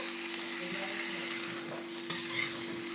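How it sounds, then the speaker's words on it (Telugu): Chicken fry being mixed and fried in a pan, a steady close sizzle of hot oil with soft stirring scrapes running through it, continuous and without talk. "ఇలా బాగా మిక్స్ చేసుకొని ఒక రెండు మూడు నిమిషాల పాటు ఫ్రై చేసుకోవాలా"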